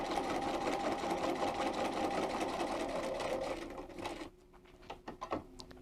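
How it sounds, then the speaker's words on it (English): A Bernina 440 sewing machine stitches a seam with a steady, fast mechanical whir and needle chatter, then stops, leaving a few quiet clicks and handling noises. "put my presser foot down, and I'm going to sew till I get to letter D"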